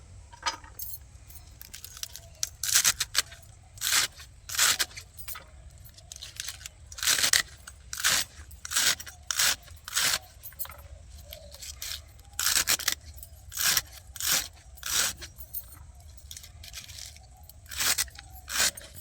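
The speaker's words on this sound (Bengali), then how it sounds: "আমার মূলো শাকটা কাটা হয়ে গিয়েছে, এবার পালং শাকটা ভালো করে বেছে আমি কেটে নেব।" Radish greens and spinach are chopped very finely on a board, producing a steady series of sharp, crisp cutting strokes in quick bursts, close and fairly quiet, with no talking.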